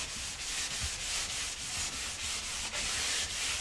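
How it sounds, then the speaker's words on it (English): Steady dry rubbing of an abrasive scratch pad over a painted china cabinet surface, a continuous hissing scuff with soft rhythmic strokes, close and even, no talk. "with these pieces of scratch pads, and then we're just going to go over the area"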